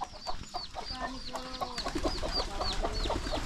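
Chickens cluck and chirp close by in a Nepali village, with several birds calling over one another in short repeated notes and a faint rustling underneath.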